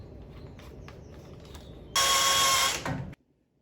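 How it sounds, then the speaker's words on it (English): A power drill boring through a 1968 Ford F100 truck frame whines loudly for about a second, bogs briefly, then stops, following quieter clicking and handling noises. "then I can drill the rest up to the bottom"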